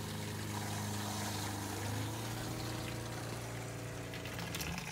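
A pump pushing antifreeze through the water lines of a Coachmen travel trailer while winterizing, a continuous close hum with a steady low tone, liquid rushing and gurgling over it, with no speech.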